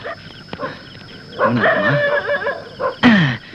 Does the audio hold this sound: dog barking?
yes